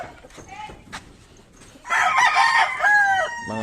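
A Sweater or White Kelso gamefowl rooster in a backyard coop crows loudly and close by, a long ringing call with a drawn-out tail, preceded by quieter clucks and scratching, with another bird stirring faintly at the end.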